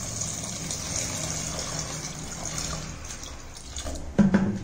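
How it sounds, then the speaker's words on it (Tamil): Water splashing and gurgling steadily into a pot for cooking chole, continuous and close, ending with a few louder clunks. "இதுக்கு எவ்வளோ தண்ணி ஊற்றி வேக வைக்க முடியுமோ அவ்வளோ தண்ணி ஊற்றிக்கலாம்"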